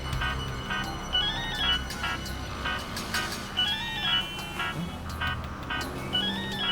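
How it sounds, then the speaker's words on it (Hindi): A telephone ringtone plays in a TV crime drama scene, a repeating electronic melody with warbling tonal phrases over a background music bed, steady and moderately loud with no talk. "शायद किडनैपर का फोन होगा।"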